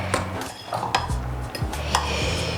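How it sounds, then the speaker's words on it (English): Kachumbari ingredients tossed together in a bowl with a utensil, giving close clinks and scrapes of metal against the bowl in a quick irregular rhythm, with no talk. "Then mix everything together."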